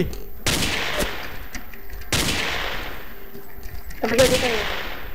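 Gunfire in the Ace of Spades video game: three sharp, loud shots about two seconds apart, each with a short ringing tail over a low game background.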